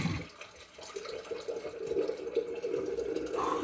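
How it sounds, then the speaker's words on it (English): Water pours through a rectangular water filter box, a soft trickling and splashing flow that grows slightly fuller toward the end, quiet and alone. "I put water in the box, rectangular box thing. It comes out. The water comes out."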